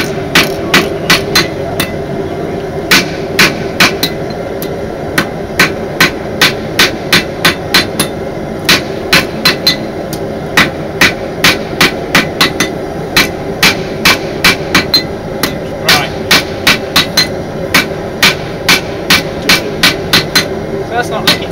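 A smith's hammer rings out on hot blade steel over an anvil in rapid, uneven bursts of sharp metallic strikes, loud and close, over a steady background hum.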